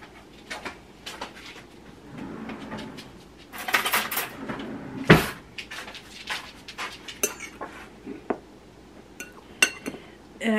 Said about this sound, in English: Okay, now we're gonna mix it.